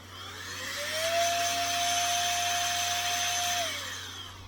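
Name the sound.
blowing dust off a model kit piece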